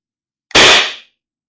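A First Strike launcher fired during testing and repair, a single sharp, loud blast that cuts off abruptly and decays within about half a second, alone against silence.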